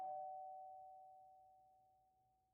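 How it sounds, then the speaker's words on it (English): A single electronic video game doorbell chime rings out clearly, then fades slowly in a long, pure sustained tone with nothing else around it. "our negotiate fixes her hair and rings the doorbell"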